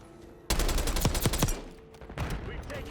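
Rapid bursts of AK74 rifle fire in the Black Ops 6 video game, loud sharp cracks in quick succession with a couple of pauses, over game ambience.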